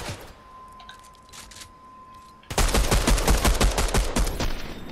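Gunfire in Fortnite Chapter 3 at Tilted Towers: after a quiet stretch, a loud burst of rapid, closely spaced shots erupts and rattles on for about two seconds before easing.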